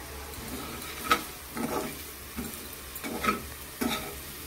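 Prawns fry with garam masala in a pan on a low flame, a soft continuous sizzle punctuated by rhythmic scraping stirs about every half second to second.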